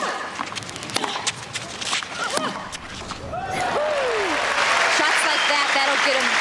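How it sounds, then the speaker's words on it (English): Tennis crowd at Roland Garros, 1999 French Open match between Hingis and Schwartz, claps and cheers to rally a player, scattered at first and then swelling into sustained applause with a commentator speaking over it. "Crowd trying to rally Schwartz."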